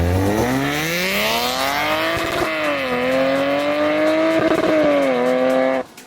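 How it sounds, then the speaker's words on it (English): Supercharged Lexus IS 350 F Sport V6 revving hard with a raspy, very loud exhaust, pitch climbing and holding under throttle before cutting off abruptly near the end. "It's a V6 and it just sounded like just really raspy, really loud."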